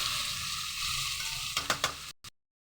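Onions soften in a pan with a pinch of salt, sizzling steadily up close, then a few sharp stirring scrapes before the sound cuts off abruptly near the end.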